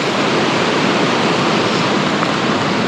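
Waterfall on the Tuolumne River, a steady, loud, broadband roar of falling water that holds constant throughout, close by and with no voices.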